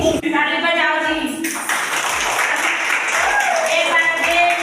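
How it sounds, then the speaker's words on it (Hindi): A group claps at a child's birthday celebration in an Anganwadi centre, a sustained patter of hands with people talking over it. "आंगनबाड़ी की कार्यकर्ता दीदी ताली बजाओ जी"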